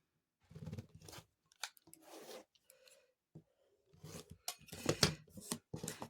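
Cutting noises come from trimming a scrappy quilt block along its diagonal, soft intermittent crisp cuts and rubbing of fabric and ruler, close and quiet with gaps of silence between.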